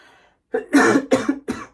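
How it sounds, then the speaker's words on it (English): A short burst of several harsh coughs in quick succession, close and loud, preceded by a faint murmur. "Sorry guys, just coughed actually."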